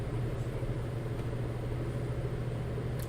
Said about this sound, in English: Handyman outside with a loud leaf blower.